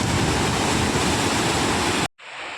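The Narmada river rushes over rocks in a loud, steady, broadband roar of water that cuts out abruptly near the end and then resumes more faintly.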